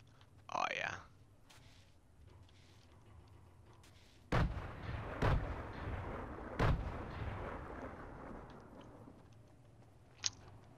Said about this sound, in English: we got some grenades gifted to us. Maybe I can just chuck those in there.